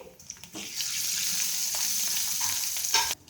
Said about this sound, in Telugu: నూనె కాగిన తర్వాత వెల్లుల్లి రెబ్బలు వేసుకోవాలి.